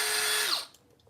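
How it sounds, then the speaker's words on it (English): A 1/16 inch drill bit bores a hole in a farm toy, a steady high whine lasting about half a second before it winds down and stops. "I drill this out with a 16th inch bit"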